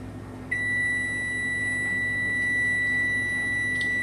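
A kitchen timer, set while beans boil on the stove for a quick soak, sounds a steady, high electronic tone that starts after half a second and holds without a break over a low background hum.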